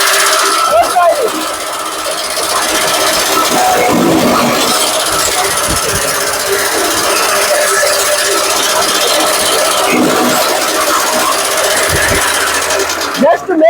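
A chaff cutter chops fodder into one-inch pieces, running as a loud, steady mechanical drone with rhythmic clattering that continues unbroken for the whole stretch. A few faint voices can be heard underneath.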